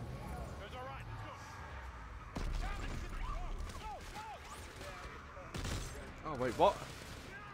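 Gunfire bursts in the sci-fi shooter game Dead Space 3, several sharp volleys breaking out midway and near the end, mixed with game effects under frequent talking.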